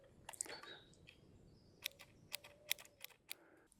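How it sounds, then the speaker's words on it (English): A Bronica camera with a faulty battery-driven shutter release gives several separate, sharp little mechanical clicks as someone presses the release in mirror-up mode and the shutter fails to fire, close and quiet in a still room. "the infamous Bronica shutter release problem caused by the fact the battery design is absolutely hopeless"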